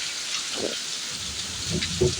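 Steady rain hisses continuously, with a few soft thuds and drips close by.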